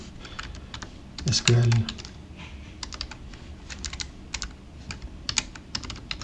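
Rapid clicking of keys on a computer keyboard while a search is typed into Google, light irregular taps close by, with someone speaking briefly over the start.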